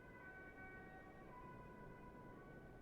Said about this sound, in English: More ambulances?